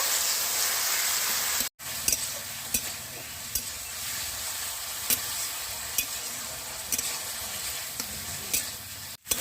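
Chicken meat fries in its own released juices in a pan, a constant near hiss broken by periodic stirring clicks and scrapes, with no voices.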